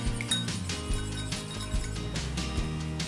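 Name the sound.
stirring egg and olive oil mixture in a bowl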